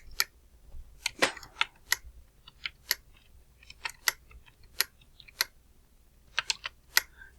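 Number keys tapped on a computer keyboard during data entry into StatCrunch, a string of sharp, separate clicks in irregular bursts, some closely bunched and others spaced apart, close and fairly quiet, with no talk over them.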